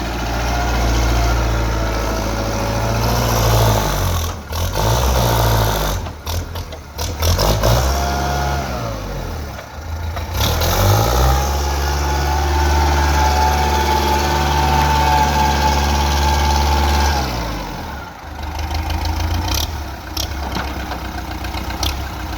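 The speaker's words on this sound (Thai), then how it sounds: "เครื่องยนต์สี่สูบ" A 2008 Kubota L4508 tractor's four-cylinder engine runs loudly close by, idling with a steady throb and rising and falling in pitch as it is revved several times.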